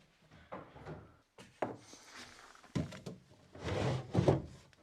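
A wooden secret drawer is worked open, with a string of close knocks, scrapes and dull thuds coming in irregular bursts, growing busier toward the end.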